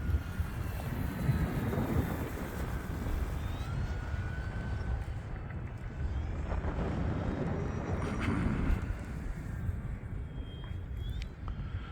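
An E-flite T-28 electric RC airplane with a 1.2 m wingspan, powered by a 4S battery, flies a loop outdoors, its motor whine rising and falling against steady wind rumble at the microphone.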